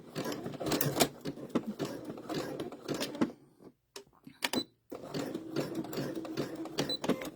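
Sewing machine back stitching appliqué onto a dish towel, close and steady, with rapid needle strokes broken by a short pause near the middle before stitching resumes.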